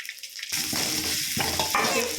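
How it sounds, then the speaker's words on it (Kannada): Spices such as cumin tempering in hot oil for buttermilk pakoda, a sudden loud sizzling burst that starts after a brief quiet moment and keeps hissing and crackling up close. "ಒಗ್ಗರಣೆ ಪಡ್ತೀವಿ"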